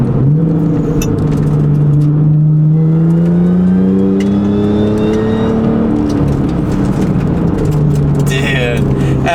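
Audi S4 engine revving while driving, a strong droning engine note that climbs in pitch under acceleration and then settles, heard from inside the car.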